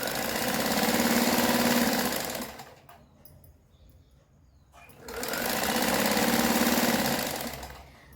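A sewing machine stitches strips onto the bottom of a patiala salwar, running in two loud, steady, fast-rattling bursts of about two and three seconds separated by a brief quiet pause, close up with no talking.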